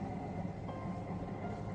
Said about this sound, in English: these are the sort of old school type trains that they had 30, 40, 50 years ago, and they're still in operation even to this day